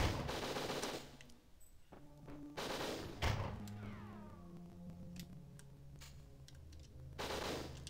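Bursts of automatic gunfire in Winback: Covert Operations, loud and dense for the first second, then several more heavy volleys separated by quieter stretches of game noise.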